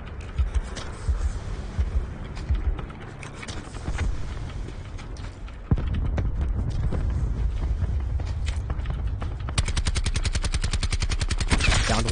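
Enemy gunfire in a multiplayer shooter video game, with scattered shots early giving way to sustained rapid automatic fire that dominates the second half, loud and close.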